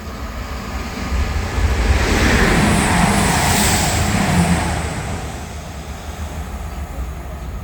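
A train running toward Wellingborough gives a steady rumble and rolling wheel noise that swells in the middle and then eases to a quieter hum. There is no talking.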